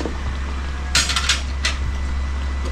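A spoon scrapes and clinks against a metal pan while stirring thick sweet and sour sauce, a few close metallic strokes over a steady low stove hum, with no talk.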